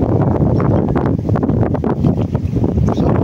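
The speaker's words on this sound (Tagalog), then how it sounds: "Lakas ng hangin guys." Strong wind buffets an outdoor microphone during a typhoon, a loud low rumbling roar with gusty surges and rustling, continuous throughout.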